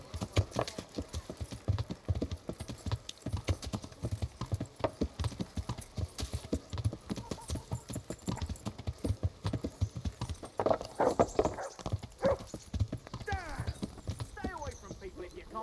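Horse hooves clip-clop in steady rhythmic beats while riding in the medieval role-playing game Kingdom Come Deliverance, continuous and fairly close, with a whinny and occasional voices in the background.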